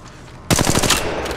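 Sudden loud burst of automatic weapon fire in the battle royale shooter Apex Legends, a quick run of close, sharp rounds that starts after half a second of quiet and rings on briefly.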